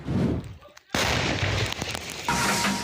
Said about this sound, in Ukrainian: 122-мм снаряд летить у бік позиції російських дронерів